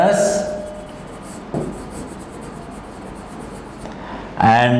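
Marker or chalk strokes on a board while chemical element names are written, a brief scratchy run with short pauses between words, picking up near the end with a louder burst.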